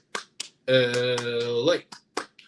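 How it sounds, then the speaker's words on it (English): Sharp, rhythmic hand claps in the UCLA eight-clap cheer, spaced in a quick pattern, with a long sung or shouted voice ringing out in the middle of the sequence. "8-clap time, baby."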